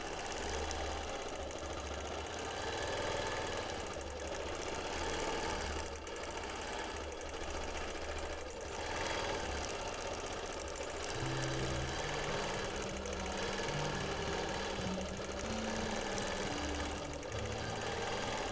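A sewing machine runs continuously during free motion quilting of a stair-step mod box pattern, a steady fast mechanical whir and rattle, close and unbroken throughout.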